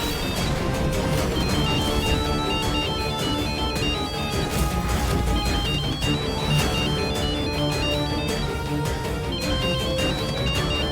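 A phone ringtone plays steadily with repeating high electronic tones over a dense, loud musical bed in a domestic drama scene, continuing throughout without any speech.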